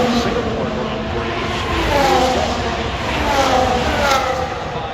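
Formula 1 car engine heard onboard with Perez at the Las Vegas Grand Prix, a steady, loud high-pitched whine that surges slightly as the car runs, continuous throughout with no talk over it.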